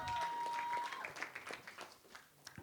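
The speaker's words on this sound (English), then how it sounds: "Please clap." A small gathering at a charity foundation event gives scattered, modest clapping that thins out into a few individual claps, with a faint tone and some murmuring underneath.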